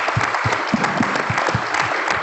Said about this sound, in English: Let's a little round of applause for Randy for saving the day.